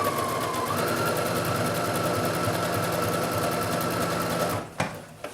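A sewing machine runs steadily at slow speed, stitching the hem of a tank top from the side seam with a stretch stitch, loud and close, then stops abruptly near the end with a couple of clunks.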